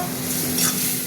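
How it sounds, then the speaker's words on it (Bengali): Tomatoes fry in spiced masala in a pan, giving a close, steady sizzle while a utensil scrapes and stirs through them. No voices. "এবার টমেটোটা ভাজা হয়ে গেছে"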